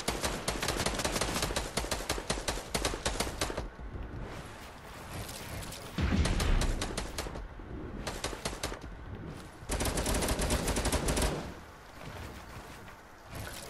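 Gunfire in a video game, apparently Fortnite, with dense rapid bursts of shots repeating in several loud stretches separated by brief quieter gaps.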